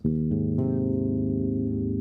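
A sustained major triad played with its fifth in the bass, ringing steadily after two quick note onsets build the chord.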